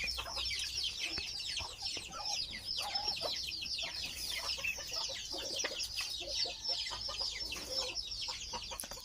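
Ring-necked pheasant hens clucking in a steady, busy stream of short calls, with lots of overlapping bird chatter around them and no talking.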